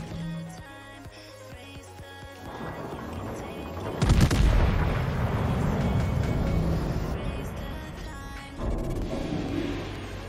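German battleship Mecklenburg firing a main-gun salvo in a naval combat game: one heavy booming blast that rolls on, then a second thump, over engine hum and faint game audio.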